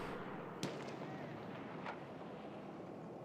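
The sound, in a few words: gunfire in a video game shooter match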